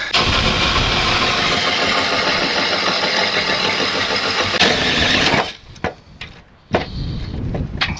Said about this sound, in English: I'm going to drill a hole up through the metal panel